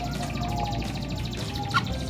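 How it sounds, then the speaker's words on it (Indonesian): A canary chirps in short bright bursts over a steady hiss of vapor while it is being treated, close and fairly loud throughout. "Burung digurah menghirup uap."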